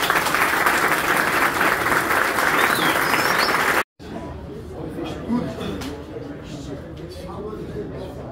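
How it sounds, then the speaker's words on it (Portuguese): A round of applause at a school sports event, a dense, loud burst of many hands clapping that cuts off abruptly, leaving quieter crowd murmur and outdoor ambience. "Uma salva de palmas."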